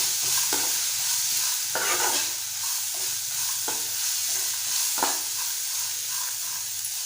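Half a spoon each of coriander powder and garam masala is stirred into Malvani-style black sprouted vatana usal in a hot pan, with a steady loud sizzle and repeated scraping strokes of the spoon up close.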